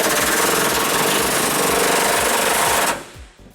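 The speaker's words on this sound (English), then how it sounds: "we're going to loosen up the other bolt on our frame using an 18mm socket as well." A socket wrench with an 18mm socket loosens a frame bolt on a 2001 Ford Ranger, giving a loud, fast, steady ratcheting clatter close by that runs for about three seconds and then stops abruptly.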